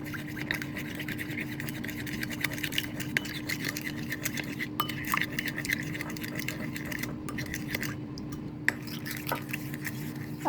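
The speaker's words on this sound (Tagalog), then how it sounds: "1 tablespoon water, 1/2 tablespoon ng cornstarch. Haluin natin lahat yan." A water and cornstarch mixture is stirred steadily in a bowl, giving continuous soft scraping and swishing with small utensil clicks, close and fairly even throughout.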